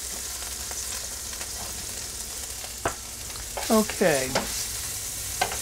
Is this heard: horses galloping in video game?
no